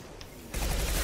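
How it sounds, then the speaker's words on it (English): A high impact shot fires in Mass Effect 2, a sudden loud broadband blast of gunfire that cuts in halfway through and rumbles on heavily after a quieter stretch. "Firing a high impact shot!"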